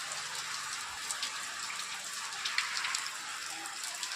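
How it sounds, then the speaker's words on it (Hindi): Heavy monsoon rain pours down outdoors as a dense, even hiss of falling water with scattered louder drops, steady from start to finish and unaccompanied by speech. "काफ़ी ख़तरनाक बारिश यहाँ पे हो रहा है"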